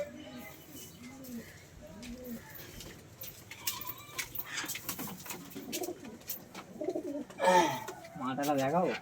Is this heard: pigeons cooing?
yes